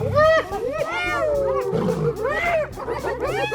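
Lions fighting with hyenas in the wild: repeated harsh, rising and falling roars and snarls overlapping in a close, loud squabble, with a voice talking over it.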